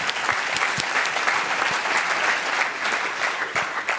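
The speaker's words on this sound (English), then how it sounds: "give all of them a round of applause before we get to the actual awards" An audience at the Exponential Medicine 2014 MEDy Awards breaks into sustained applause, dense steady clapping that fills the room for the full few seconds with no voices over it.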